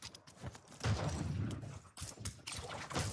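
Bursts of gunfire ring out in a first-person shooter video game, several quick volleys at moderate level with short gaps between them.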